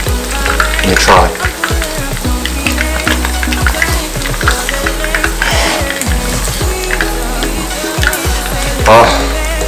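Shrimp and pork frying in a pan, a loud, steady crackling sizzle with bursts of popping fat and occasional clinks of stirring, close up and constant throughout.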